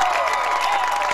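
A football stadium crowd at a high school game against Van Wert cheers an offsides penalty on fourth and one, a steady broad roar heard close by, with nothing standing out above it.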